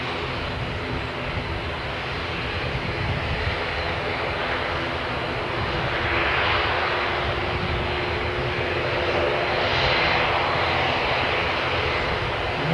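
Airplane engines roaring at an airport during plane spotting, a loud, broad, continuous drone that slowly swells, with no voices over it.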